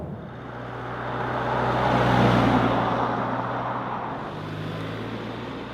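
Steady road and tyre rumble inside a Mercedes V-Class Facelift van cruising on the motorway, a low muted drone that swells gently in the middle and then settles, with no voices.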